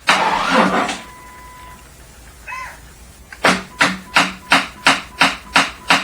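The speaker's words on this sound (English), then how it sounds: "When the load is applied, the voltage will fluctuate and you'll get this noise." A weak starter sputters at first, then a motorcycle starter with a failing battery clicks and chugs in a steady rapid rhythm of about a dozen labored pulses as voltage fluctuates under load.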